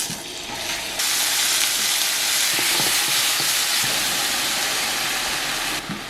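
A sauce thickened with Panda flour sizzles and bubbles in a frying pan, a loud continuous hiss of frying that jumps up after a second and holds steady before easing slightly at the end.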